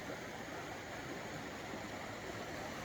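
A stream running outdoors near a cliffside, a dense, even rush of flowing water, close and steady with no voices.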